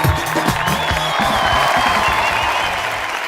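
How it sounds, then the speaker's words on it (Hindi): A studio audience at a Hindi TV comedy talk show breaks into loud, sustained applause and cheering as celebrity guests are welcomed, with steady dense clapping throughout and a few scattered whoops. "जोरदार तालियां हो जाएं।"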